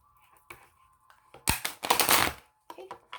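A deck of tarot cards gets a quick riffle shuffle: a bright, papery burst of about a second sits between soft, scattered taps and clicks of the cards being handled in a quiet room.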